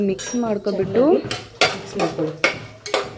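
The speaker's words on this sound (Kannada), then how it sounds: "ಪಲಾವ್ ಎಲೆ, ಮೆಣಸು, ಸೋಂಪು, ನಕ್ಷತ್ರದ ಹೂವು ಮತ್ತು ಲವಂಗ ಎಲ್ಲ ಹಾಕ್ಕೊಂಡು ಚೆನ್ನಾಗಿ ಮಿಕ್ಸ್ ಮಾಡ್ಕೊಬಿಡಿ" Whole spices such as bay leaf, pepper, fennel, star anise and cloves stirred in a metal pot for rice, giving repeated close clinks and scrapes of a utensil against the pot, with no talk.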